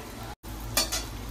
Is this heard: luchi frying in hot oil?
yes